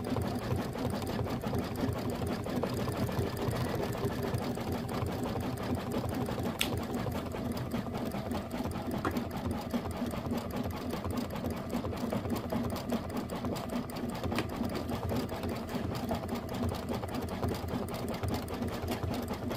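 A sewing machine runs steadily for a long stretch, stitching a chunky satin stitch fringe on a mini quilt block, a close continuous rapid mechanical whir with no voices.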